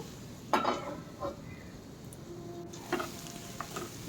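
Pointed gourd cooks with shrimp paste in a pan, with a faint sizzle and a few soft scraping stirs and clinks that stand out sparsely against a quiet background.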